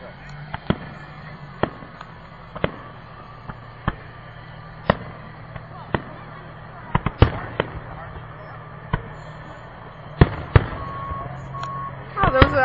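A fire truck sounds its steady reversing beeps in a regular rhythm while fireworks pop and bang now and then. The bursts cluster louder toward the end, and a voice is faintly present.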